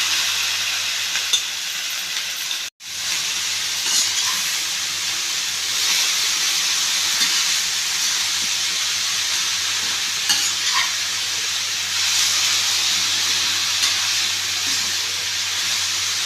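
Cabbage fries with onions in a pan, giving a loud, steady sizzle and hiss for a long stretch. A spoon stirs and scrapes now and then, and the sound drops out briefly once.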